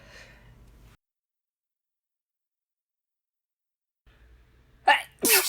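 Two loud, unstifled sneezes from a woman, close and sharp, coming one after the other after a quiet pause and a brief breathy intake.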